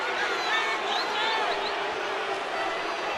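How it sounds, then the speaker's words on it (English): A sellout basketball crowd in the Mullins Center reacting to a referee's foul call, a sustained wash of voices and whistling-like shouts at steady moderate loudness, with a commentator talking over it. "the sellout crowd here inside the Mullins Center did not like the call"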